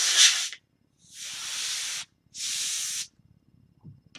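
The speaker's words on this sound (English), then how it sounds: "I'm going to let it run because I'm going to spritz it." A spray bottle spritzes liquid dye onto vinyl in three loud, close hissing bursts, each about a second long and separated by short silences.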